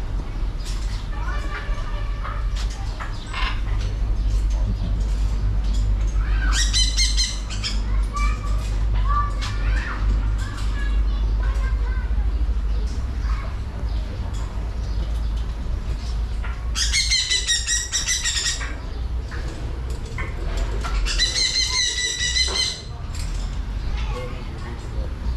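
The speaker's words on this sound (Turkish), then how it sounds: "Yine papağanlar." Parrots squawk loudly in several harsh bursts at an outdoor rest stop in a Cambodian village, mixed with children's voices and steady background noise, with people chatting nearby.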